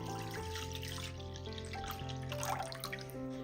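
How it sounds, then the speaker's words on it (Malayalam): Half a litre of thick milk pours steadily into a vessel, a soft continuous trickle heard with music playing underneath. "ഇനി ഒരു പാത്രത്തിലേക്ക് നല്ല കട്ടിയുള്ള 1/2 ലിറ്റർ പാൽ ഒഴിച്ചു കൊടുക്കാം"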